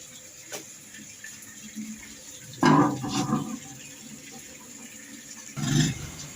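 Water splashes from a tap in two short bursts over a quiet, hissing background, close and moderately loud.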